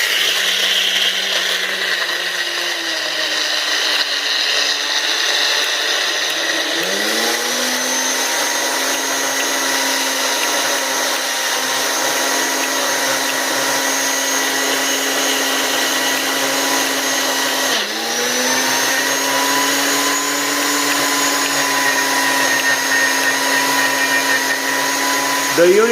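A Ninja Foodi Power Nutri blender on its Power Mix setting runs loud and steady with a high whine, briefly dipping and surging back at a couple of points as it churns.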